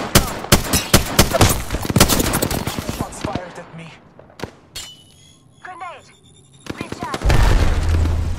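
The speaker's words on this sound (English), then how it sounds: "Grenade!" Combat sounds in the shooter Apex Legends, where a thrown grenade goes off amid heavy gunfire: dense, rapid bursts of shots and booms, a quieter stretch, then more loud bangs and a low rumbling blast near the end.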